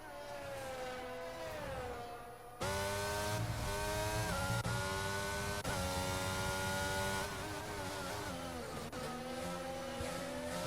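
An Aston Martin race car in a British Grand Prix racing video game drones steadily through the lap, its engine pitch rising and falling with shifts; the car sounds alone and close, with no voices over it.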